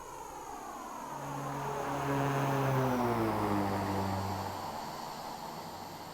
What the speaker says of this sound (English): The floatiest of floaty landings.